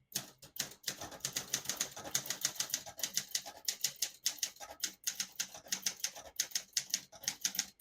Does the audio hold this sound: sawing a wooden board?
no